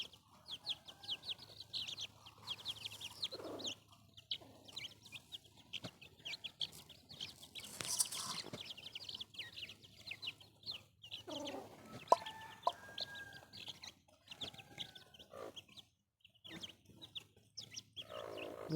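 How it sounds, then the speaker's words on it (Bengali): About thirty month-old chicks peep in rapid, high-pitched chirps, mixed with soft clucking, close by and continuing without pause. "প্রায় এখানে তিরিশটার মতো মুরগির বাচ্চা আছে"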